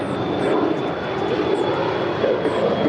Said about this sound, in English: And China Airlines Cargo, flight 5138, coming in from Taipei. It's the 777.